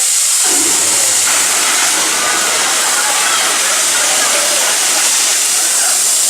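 Rushing water special effect on a studio backlot tour set at Disney's Hollywood Studios, a loud sudden gush that starts abruptly and continues as a steady roaring hiss, with a voice speaking over it.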